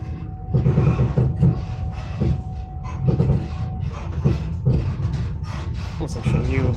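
A Moscow metro train runs over the tracks with a steady, close rumble and rattle that continues throughout while a person talks over it.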